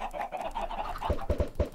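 Chickens in a Minecraft chicken farm give several short clucks and squawks, loud and close, bunched toward the end of the stretch over a steady hum of game sound.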